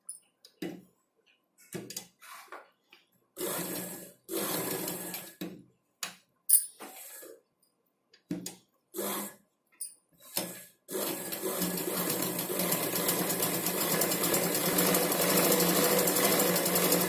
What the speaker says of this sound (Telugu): ఈ లైనింగ్ క్లాత్ మీద మళ్ళీ ఒక లైన్ అనేది స్టిచ్చింగ్ చేసుకోవాలి